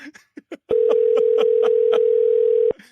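A phone line tone sounds on an unanswered call, a steady loud tone holding for about two seconds after a few short clicks and speech fragments, then cutting off.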